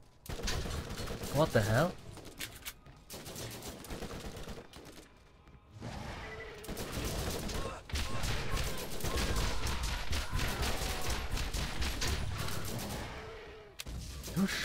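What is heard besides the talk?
gunfire in Borderlands 1 video game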